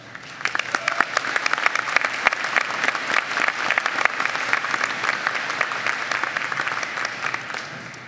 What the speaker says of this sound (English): Please give all of those who have supported you during these important years a round of applause.